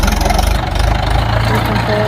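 A tractor engine runs in a field with a loud, steady low throb close to the microphone. A voice speaks over it.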